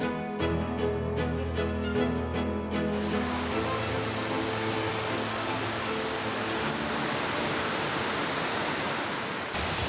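Storm runoff rushes down a creek near a weir and fish structures along a jeep track, a loud, steady broadband roar of flowing water with a low rumble early on.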